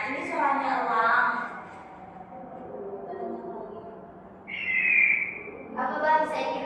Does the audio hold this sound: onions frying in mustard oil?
no